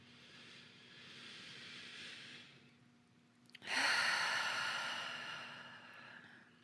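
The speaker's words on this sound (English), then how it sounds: "Full exhale." A slow, deep breath is drawn in quietly, then released as a full, audible exhale that swells and gradually fades, close and alone.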